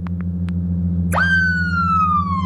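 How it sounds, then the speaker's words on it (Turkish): In an Android police convoy simulator game, a loud police siren wails up and holds a steady tone over a constant low engine hum, with a few soft clicks before it starts. "Evet siren sesleri de gayet iyi."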